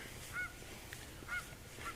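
Canada geese honking at campus ponds, three short honks spaced about a second apart over a steady outdoor background hiss, moderately distant.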